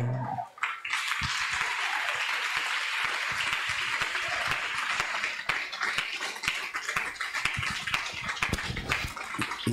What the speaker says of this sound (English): Is that how you are clapping for the King of Kings and the Lord of Lords?